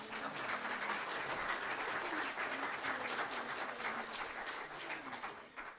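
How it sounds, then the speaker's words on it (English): A church audience claps steadily in appreciation of a visiting Filipino group, the applause dense and continuous throughout at moderate distance, with no talking over it. "could we just show our appreciation to these people with a big amen and also clapping"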